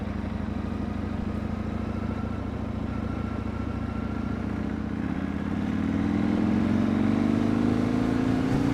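A Yamaha MT-01 SP motorcycle being ridden through Hakone, Japan, its big engine a steady, loud low rumble that rises in pitch and swells louder toward the end as it accelerates.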